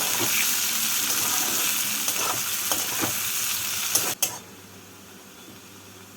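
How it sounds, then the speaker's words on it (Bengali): Chopped onions frying in a pan for a fish-head cabbage ghonto, a steady close sizzle with a few stirring scrapes that cuts off abruptly, leaving a quieter low hiss. "পেঁয়াজটাকে লাল করে ভেজে নেব"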